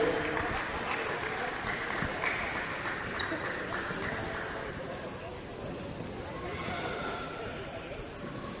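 A crowd at a futsal final claps for the match team, a broad steady patter of many hands that swells again near the end, with talk mixed in.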